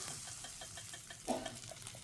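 A tempering for rava dhokla, with mustard seeds, green chilli and curry leaves in hot oil, giving a faint steady sizzle with light crackles and one brief louder spit.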